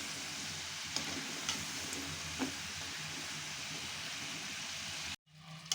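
Khurma snacks frying in oil until golden brown, a quiet, continuous bubbling sizzle with occasional soft stirring clinks, cut off briefly near the end.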